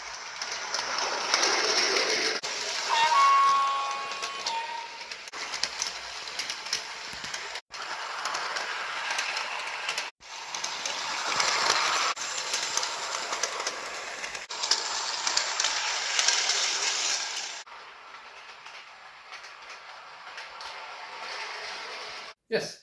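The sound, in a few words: toy electric train running on track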